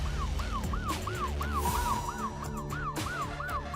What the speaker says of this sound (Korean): 자, 여기서 경찰차가 주차장으로 들어왔고요.